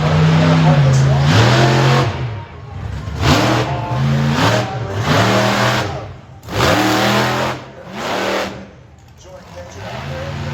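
A Ford Super Duty monster truck at a monster truck exhibition revs its engine loudly and close, in several rising and falling surges across the whole stretch, with announcer-style talk mixed in.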